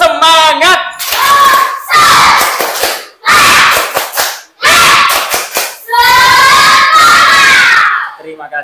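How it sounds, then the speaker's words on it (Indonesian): Schoolchildren in a classroom doing a rhythmic tepuk semangat cheer clap, loud bursts of patterned clapping mixed with chanted shouts, broken by short pauses. "Tepuk tangan dulu"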